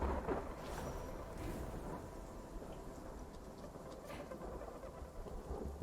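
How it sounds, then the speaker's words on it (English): Rain falls steadily in the video game After Us, a soft, continuous hiss heard faintly with low rumbles and no voices. "It's all raining and shit."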